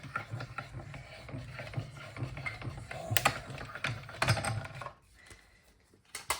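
Hand-cranked die cut machine used for Stampin' Up card making, giving a steady run of rhythmic ratcheting clicks that stop abruptly about five seconds in, with a couple of clicks at the end.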